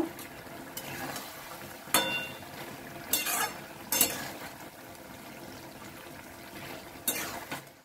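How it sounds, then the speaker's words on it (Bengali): A pot lid lifted and a drumstick and mustard curry stirred inside, heard as several sharp metallic clanks and scrapes spaced across a quiet stretch, close up, with no voices. "একটা খুলে আমি এটা নেড়ে দেব।"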